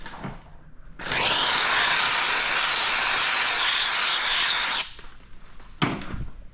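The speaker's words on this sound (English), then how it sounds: "now let's go ahead and get some more steam on this" A handheld steamer blasts a loud, steady hiss of steam onto paint protection film on the front bumper of a Lotus Evora for about four seconds, with brief soft rubbing and handling noises before and after.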